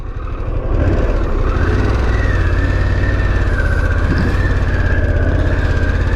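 Harley-Davidson Pan America motorcycle engine in road mode pulling away in first gear, a loud close low rumbling throb that builds and holds steady with a rising whine.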